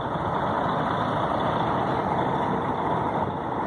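A Busscar Vissta Buss HI coach with an O-400 RSE chassis idles steadily, its diesel engine giving a constant dense rumble and hiss at close range, unbroken and without talking.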